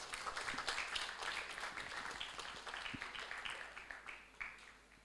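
A crowd applauds at an academic research symposium, with fairly quiet, continuous clapping that holds steady, then gradually tapers toward the end.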